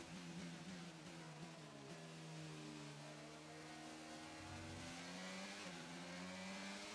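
A car engine in the F1 2022 racing game, held back and restricted, drones steadily with shifting rising tones as revs climb and dip through gear changes, loud and continuous with no one speaking.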